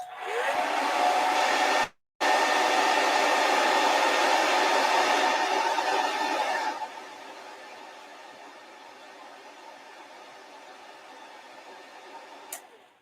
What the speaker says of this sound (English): So hit this with a hairdryer.